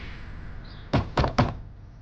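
Three firm knocks land on a door, evenly spaced and close, against a quiet room hum with no talking.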